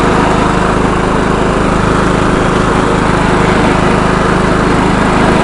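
A 1995 John Deere STX 38 lawn tractor engine runs steadily up close, a loud, constant mechanical drone with no change in pitch and no voices.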